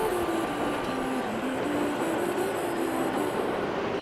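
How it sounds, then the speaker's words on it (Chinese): A commuter train passing in Akihabara, Tokyo, gives a loud, steady rumble with a sustained humming tone and faint rail squeal, close by and without talk. "最后就是网红电车。"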